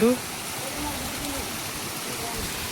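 Water running steadily from taps at a forest rest stop, a continuous broadband rush with no break, with a brief louder burst at the start.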